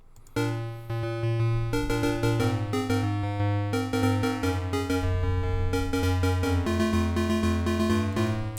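A steady piano tune played back in Open Note Block Studio with plucked, synthetic tones, chords and a repeating bass line, played continuously at even volume with no voices.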